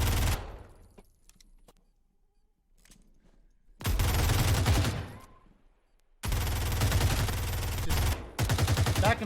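A competitive Rainbow Six Siege match with an exchange of gunfire: a brief burst, a quiet pause with faint clicks, then two loud sustained volleys of rapid shots from close range.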